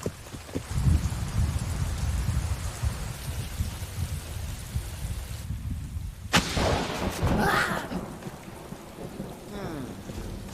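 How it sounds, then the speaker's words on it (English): A thunderstorm with steady, heavy rain, a sharp crack of thunder partway through and a long rumble after it, all close and loud in a cartoon scene. "It's just a storm."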